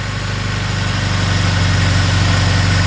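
A car engine idles steadily with the hood open, a low, even rumble with a faint rhythmic pulse holding at constant loudness for the whole few seconds, no voices over it.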